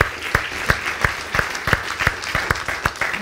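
A church congregation claps in a loose, rhythmic unison of sharp beats about three per second, close and steady throughout.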